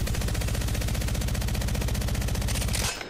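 Rapid automatic gunfire in the Apex Legends video game, a dense continuous burst of evenly spaced shots lasting about three seconds before cutting off with a short tail.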